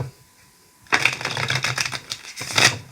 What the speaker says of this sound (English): I'm just going to do a very quick shuffle.